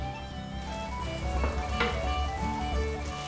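Shepherd's pie filling of minced meat with thyme and garlic sizzles gently in a pan, with a steady close frying hiss and occasional light stirring scrapes, no talking.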